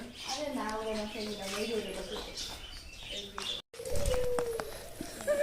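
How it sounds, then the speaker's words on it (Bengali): Birds coo and chirp close by in an aviary at Rajmoni Pyramid, Sonargaon, Narayanganj, Bangladesh, while people talk over them, with a brief dropout partway through. "চারোদিকে পাখিগুলো ছাড়া আছে"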